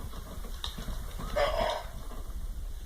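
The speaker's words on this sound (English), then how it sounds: "it barks and it walks around a bit after it wakes up" A toy robot dog lets out a short, faint electronic bark against a steady background hum, a single brief yelp with no talking.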